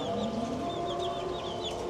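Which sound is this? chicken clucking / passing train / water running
chicken clucking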